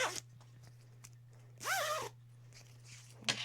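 A short clothing zipper pull rasps once in the middle while sewing, a quick rising zip against a quiet background hum, with a few faint handling clicks around it.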